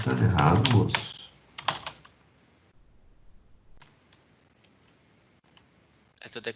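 Clicks and taps from a computer keyboard come in short uneven bursts, loud at the start beside a voice, then fainter scattered keystrokes before more clicking at the close.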